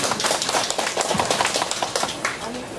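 An audience bursts into steady applause, a dense stretch of many hands clapping that fills the whole moment and fades slightly at the end.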